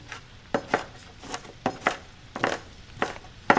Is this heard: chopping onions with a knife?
yes